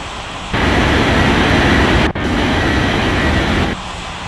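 Jet airliner powering up for takeoff on runway 34 left in an air traffic control game, a steady loud roar of engine noise holding for several seconds with a brief dropout midway, no voices.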